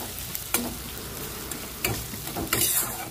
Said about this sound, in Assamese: এতিয়া দিছো পিয়াজ, ভালকৈ লৰাই দিছো।